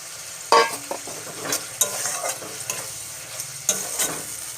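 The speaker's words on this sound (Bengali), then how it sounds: "দিয়ে একটু ভালো করে কষাই করে নেব।" Tilapia fish is sautéed in a tomato masala, with a soft frying sizzle under repeated scraping and stirring strokes of a spoon against the pan, close by and irregularly spaced.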